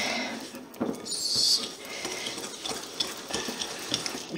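Tiramisu with a speculoos mixture being stirred in a bowl, with soft scraping and patting strokes repeating irregularly up close at a moderate level, and a brief brighter scrape near the start.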